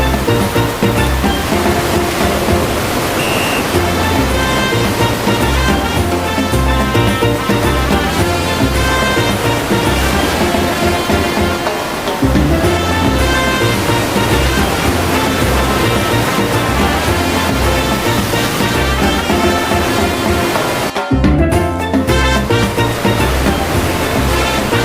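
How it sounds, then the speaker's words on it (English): Ocean waves breaking on a sunny beach, a loud, continuous close roar of surf with rolling swells and no talk. "The beach is so beautiful today. Look at the"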